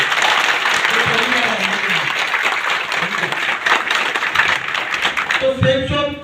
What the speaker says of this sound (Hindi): मैं पुराने साथियों से चाहूंगा नए लोगों के लिए एक जोरदार ताली होनी चाहिए।